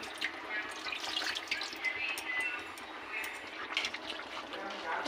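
Water is poured into a cooking pot of chicken biryani, a soft continuous splashing and trickle with faint background voices.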